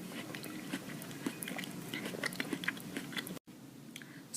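Someone eats a maple bourbon baked pear close up, soft bites and moist chewing in a quiet room, with a brief dropout near the end.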